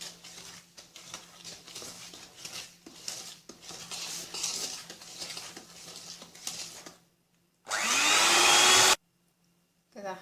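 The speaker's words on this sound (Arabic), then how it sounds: "ضربت السمنة مع السكر لحد ما بقت القوام ده، بقت كريمي كده" Electric mixer beating ghee with sugar for ghorayeba cookies, a busy clattering whir of beaters in a bowl. It stops and then gives one short, loud, smooth burst of high-speed whirring.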